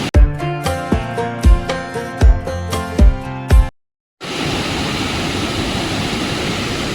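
A hill-road waterfall near Valparai runs in full flow just after rain, heard as a steady, loud rushing roar over the last three seconds, following a burst of rhythmic music and a brief silence.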